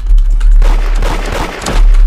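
Gunfire in the Roblox Da Hood game comes as a loud, dense flurry of overlapping shots and booms, close and continuous throughout.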